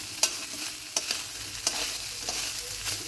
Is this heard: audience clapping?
no